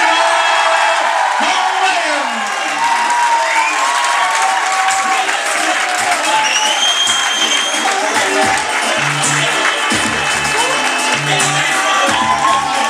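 At a white-collar boxing event, the crowd claps, whoops and yells after the judges' decision, lively cheering under an announcer's voice over the hall's loudspeaker.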